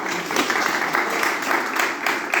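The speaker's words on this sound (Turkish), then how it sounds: "Gelin bir alkış gelsin artık." Audience applause at an Azerbaijani ashiq folk music performance, a dense steady wash of clapping lasting the whole moment, fairly loud and close, with faint voices mixed in.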